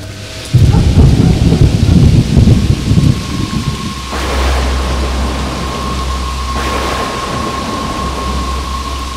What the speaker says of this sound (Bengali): বাইরে এত ঝড় উঠেছে